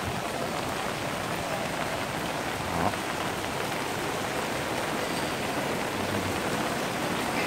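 Steady heavy rain pours down on surfaces in Saigon during the rainy season, a dense continuous hiss with a faint low rumble briefly rising midway, no voices.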